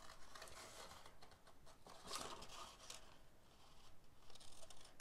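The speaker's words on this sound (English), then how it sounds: "diagonally cut across to your horizontal line" Scissors cutting diagonally across a paper sleeve pattern to a horizontal line, a steady close rasp of snipping and rustling that continues throughout with no talk.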